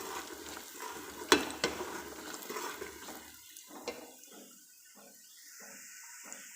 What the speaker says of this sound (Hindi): अब जी इसमें जो सारे ड्राई स्पाइसेस हैं वो डालने लगे हैं, और इनको इस तरह से ज़रा भून लेना है।